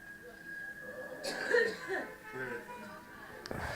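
One or two rough coughs after a hard pull from a dab, fairly close and moderate in loudness, mixed in with murmuring voices and a brief chuckle.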